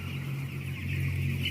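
Chickens cluck and murmur together in a crowded poultry house with colony cages, a dense, continuous flock chatter over a low mechanical hum.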